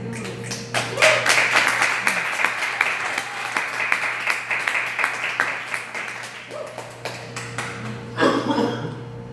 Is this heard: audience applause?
yes